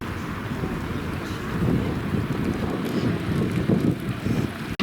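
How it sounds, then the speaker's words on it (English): Strong wind buffets the microphone by a harbour, a rumbling, gusting roar that swells and eases, with faint background sounds beneath it. "I'm not sure if you can hear me because it's very windy"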